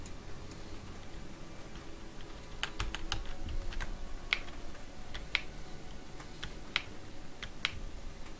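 Computer keyboard with a key that has lost its tactile feedback, typed on quietly: a run of crisp, irregular clicks over a steady background hiss, with no voices.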